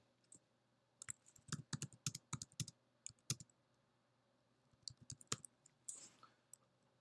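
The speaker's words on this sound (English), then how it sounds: "And then you're just going to start typing." Fingers type on a computer keyboard, producing bursts of quick, crisp key clicks in uneven rhythm with brief pauses, close and fairly quiet against a low steady hum.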